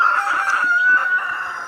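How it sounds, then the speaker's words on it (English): A rooster crows loudly and close by near a garden of fruit trees, a drawn-out strident call with clucking fowl and other birds around it. "I can't really get too close over there because the dang birds get too noisy"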